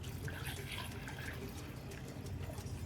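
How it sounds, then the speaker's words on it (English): Water pours steadily into a blender holding roasted chilies and garlic for birria, a continuous splashing rush lasting a few seconds, close and fairly quiet. "Put water in."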